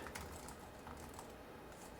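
Keys tapped on an HP TouchPad Bluetooth keyboard give quiet, close clicks in a quick irregular patter, with no voices.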